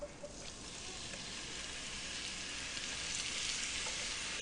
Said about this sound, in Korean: 기름을 살짝 돌려주시고 팬이 따뜻한 온도가 되면 김치 넣어주세요